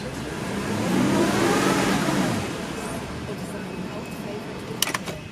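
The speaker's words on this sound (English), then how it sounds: "It revs nicely." A 2004 Porsche Cayenne S engine revs up smoothly, a steady mid-pitched roar swelling early and holding before easing off, with a brief click near the end.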